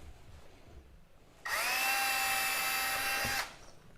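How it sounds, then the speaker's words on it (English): A power drill with a small bit bores through leather for a saddle swell bag, giving a steady, fairly loud whine that starts abruptly, holds for about two seconds and then cuts off, with a quiet room before and after. "we're going to take a drill and a little drill bit and we're just going to punch a hole through our leather"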